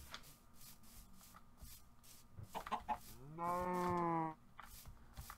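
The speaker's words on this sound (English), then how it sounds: "Got a chicken here and a cow." In the Minecraft video game, a chicken clucks softly amid game sounds, then a cow gives one long, loud moo lasting about a second.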